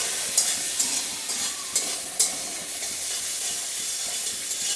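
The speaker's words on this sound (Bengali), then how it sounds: "জিরের গুঁড়োটাকে একটু ভালোভাবে ভেজে নেব।" Cumin and turmeric powder frying in a hot pan, a steady sizzling hiss with a few sharper crackles and stirring scrapes, close and alone.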